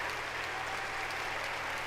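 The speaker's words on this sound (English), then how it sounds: "Can I get a round of applause for not getting canceled?" A crowd claps steadily and evenly at moderate loudness, a short continuous burst of applause with no voices over it.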